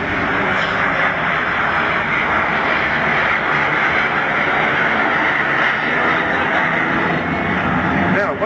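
A jet in a flying display at the Bournemouth Air Festival roars steadily and loudly throughout, a continuous broadband engine rush with a commentator talking over it.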